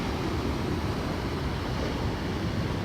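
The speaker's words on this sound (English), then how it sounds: "There it goes underneath the deck right there. Yep, another big wave." Storm surge waves from Hurricane Dorian wash onto St. Simons beach at King and Prince, a steady, loud, broadband roar of churning surf mixed with gusting wind buffeting the microphone, with no voices.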